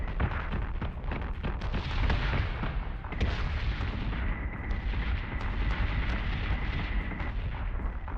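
Ship guns firing in the space combat game Battlestar Galactica Deadlock, a dense run of heavy booming blasts and rumbling impacts, with a sustained tone hanging over the later shots. No voices.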